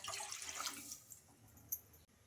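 A short splash of about one and a half cups of water poured into a pan, loud at first and then tapering off into faint drips and a light clink.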